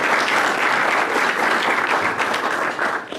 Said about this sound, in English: So a round of applause for everybody who worked so hard today.